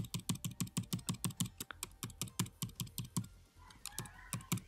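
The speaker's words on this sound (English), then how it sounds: "I can just use the arrow key on my keyboard" Computer keyboard keys, arrow and shift keys among them, are tapped in a quick, steady series of close, crisp clicks, with a short pause before a few more presses and no talking.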